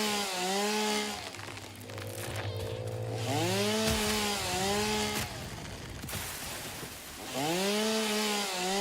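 A chainsaw in the video game Satisfactory revs loud and close, with a droning engine whose pitch repeatedly swoops up and down in surges and a harsh cutting rasp underneath.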